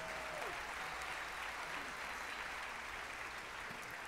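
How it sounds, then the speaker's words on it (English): Sustained applause from a large church congregation at an Easter service, an even wash of clapping that holds steady throughout, fairly distant and soft. "Oh, come on, continue to give the Lord a round of applause."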